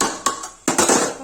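A metal lid clanks onto a pot of mutton curry cooking on the stove, two sharp close knocks of metal on metal with a brief ring, and no talking.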